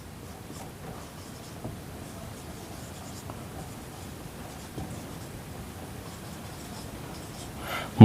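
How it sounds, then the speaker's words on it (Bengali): Writing during a math lesson makes a faint, continuous scratching with occasional soft taps, low and steady over quiet room noise, ending in a brief louder scrape. "তাহলে এখানে লিখব অতএব শতকরা লাভ, মোহনের শতকরা লাভ"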